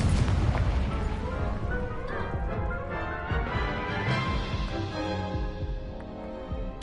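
An Incendio fire spell in Hogwarts Legacy erupts with a loud, close burst of roaring flame that rumbles on and slowly fades over several seconds, with no voice over it.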